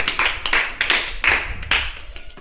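Children in a classroom clap together in a brief burst of several sharp, rhythmic group claps, close and fairly loud, with no talking over them.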